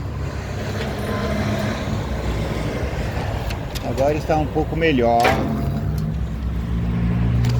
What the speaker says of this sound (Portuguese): O barulhinho dos carros vai incomodar um pouco.